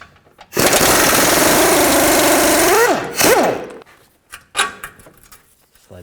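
A power tool with a 21mm socket spins a control arm bolt loose on a 2013-15 Ford Police Interceptor, giving a loud, close, continuous whirring burst of about three seconds with a rising whine, then a shorter rev and a few clunks.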